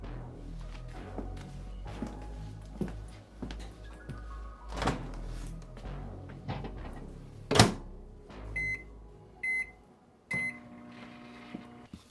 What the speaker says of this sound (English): back into the microwave for just about 10 to 15 seconds